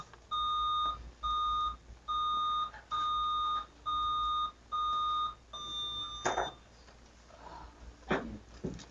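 Quiz competition buzzers tested one after another, six identical electronic beeps in an even row, loud and clear, followed by faint shuffling and small knocks.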